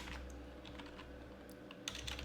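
Quiet, close typing on a computer keyboard, a quick run of soft key clicks over a low steady hum, with a slightly sharper burst of keystrokes near the end.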